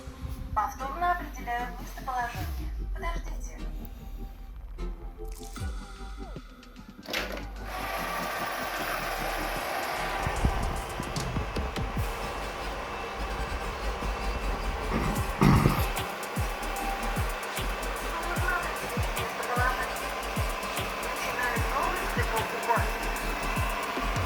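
An Ecovacs Deebot Ozmo 950 robot vacuum cleaner switches on after a quiet start and runs with a steady mechanical whir and motor hum, close by, with some clicking and brief bumps through the middle of the run.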